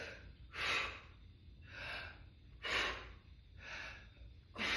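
Forceful breaths from someone doing a rowing exercise in a workout, four or five rhythmic huffing exhales spaced about a second apart, close and breathy.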